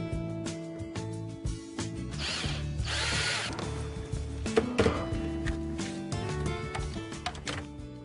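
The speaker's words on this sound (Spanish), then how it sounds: "como lo tenemos que atornillar a un panel de madera, utilizaremos tan solo tornillos de madera" Wood screws driven into a wooden panel with a power driver, producing whirring, ratcheting bursts that stop and start, close and fairly loud, with no voices.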